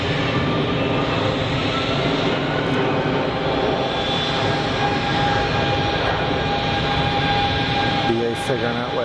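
Steady, loud roar of an airliner engine departing and taxiing at Geneva Airport, a constant wash of jet noise filling the whole stretch without pause.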